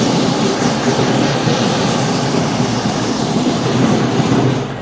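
A 2019 John Deere 2032R compact tractor, a 32 hp hydrostatic 4x4 with a 220R quick-attach loader, runs with a loud, steady engine drone that holds for several seconds without a break. No voices are heard over it.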